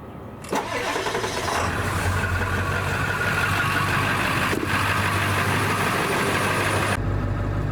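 A 7.3-liter diesel truck engine cranks and catches, then settles into a loud, steady rumbling idle that continues close by.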